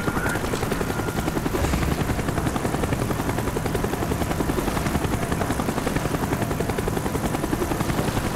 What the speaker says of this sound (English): Avoid the helicopter spot.